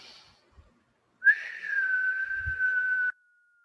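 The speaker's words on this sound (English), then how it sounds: "exhale for 4 counts through the mouth, with pursed lips, with hissing sound or whistling sound" A single steady whistle, a sustained breathy tone held for about two seconds after a short puff of breath, close and clear.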